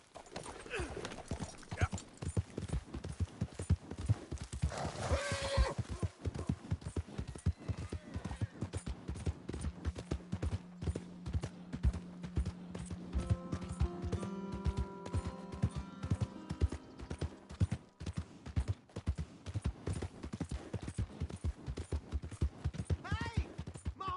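In the video game Red Dead Redemption 2, steady clip-clop of horse hooves trots throughout, with a horse neighing partway through and a sustained droning tone in the middle stretch.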